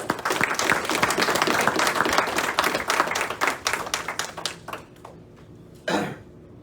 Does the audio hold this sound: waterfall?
no